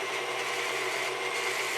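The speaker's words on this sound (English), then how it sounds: "so I'm going to whisk this" A stand mixer with a whisk attachment whirs steadily through dry coffee cake ingredients of sugar, flour, baking soda and salt, a constant even motor hum with faint rubbing, close and alone.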